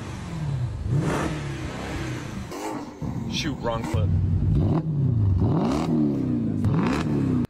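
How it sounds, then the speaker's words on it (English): A car engine without mufflers revs repeatedly in loud, raspy bursts, rising and falling in pitch, with a person speaking briefly in between. "the first time I turned on the car without the mufflers"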